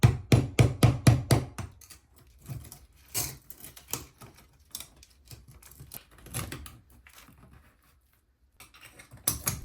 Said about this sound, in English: Firm taps should help to break those stubborn seals.